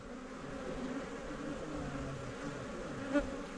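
Honeybees buzzing in a steady, dense drone around an opened hive frame at an educational apiary, close and continuous, with a brief louder buzz near the end as one passes by.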